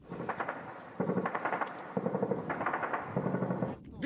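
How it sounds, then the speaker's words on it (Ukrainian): Machine-gun bursts and single gunshots come from distant enemy positions along the snowy Donbas front line at the Svitlodarsk arc. They are faint, rapid, rattling volleys of about a second each, repeating at short intervals. "з боку ворога лунають кулеметні черги та поодинокі постріли"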